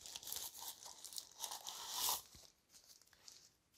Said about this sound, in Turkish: TV Box poşetinden çıkaralım.